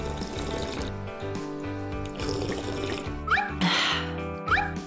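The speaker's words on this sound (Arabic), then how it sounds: "أنا لازم هشرب من الحنفية على طول." Water runs from an indoor tap in a steady splashing stream beneath a sustained musical backing, with a sharp sneeze-like burst near the end.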